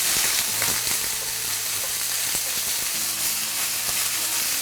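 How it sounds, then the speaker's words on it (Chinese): Blanched corn and carrot stir-fried over high heat in a wok with ginger, garlic and scallion, a loud continuous sizzle with scraping stirs throughout. "接着下入这个焯过水的玉米泥、胡萝卜，用大火给它翻炒一下"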